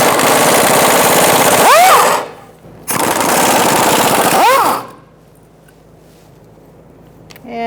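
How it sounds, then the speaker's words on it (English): Pneumatic impact wrench with a 12mm socket hammers out bracket bolts on a 2002-2006 Honda CR-V during driveshaft replacement, two loud rattling bursts of about two seconds each separated by a short pause, then near silence. "Using a 12mm socket, you're going to take out these bolts for this bracket."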